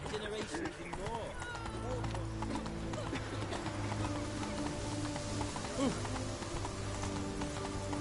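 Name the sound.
Roach the horse galloping in the video game The Witcher 3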